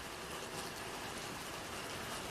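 Rain lashes a street in a dense, steady hiss of falling drops, loud and even from start to finish, with no voices.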